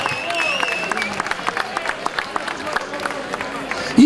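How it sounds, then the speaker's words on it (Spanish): Audience at a town tomato festival cooking contest applauding the tastiest dish, sustained crowd clapping mixed with voices and murmur, fairly close and moderately loud. "Ese aplauso muy fuerte para el plato más sabroso."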